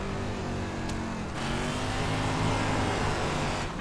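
Late model dirt race cars in the iRacing video game drone at low revs, a steady loud engine hum with a brief pitch change partway through and no voices.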